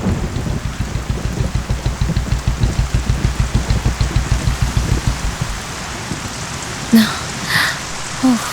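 Heavy rain pours down in a steady, dense hiss with rhythmic drumming of drops on a surface, and a couple of brief louder sounds near the end.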